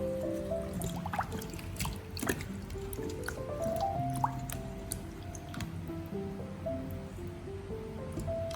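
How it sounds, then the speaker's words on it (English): Ginger pieces rinsed in salt water, with soft trickling, dripping and wet squishing of the roots being handled, quiet and close with irregular splashes. "I'm rinsing them with salt water to ensure everything is perfectly clean before we start."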